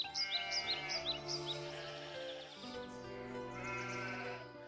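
Sheep bleat at a stone-covered well, several overlapping wavering calls close by, with a few faint bird chirps early on and no talk.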